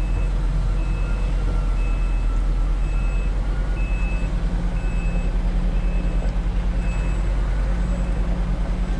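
A truck being unloaded at a site in Araguaína, Tocantins, with a steady low engine rumble, repeated reversing beeps and faint vehicle noise throughout.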